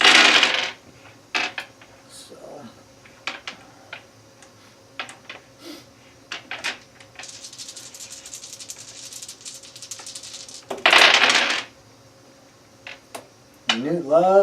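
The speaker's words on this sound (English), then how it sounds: "We're going to roll our dice to see who goes first" Dice rolled for an Ashes: Rise of the Phoenixborn board game, tumbling and clattering across a table in several bursts of rattling clicks, with long scattered runs near the end and a voice at the close.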